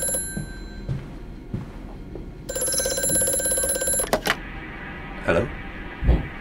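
Telephone ringing in the horror game Amnesia: A Machine for Pigs, a steady metallic bell ring of a couple of seconds that cuts off abruptly, surrounded by muffled knocks and footsteps.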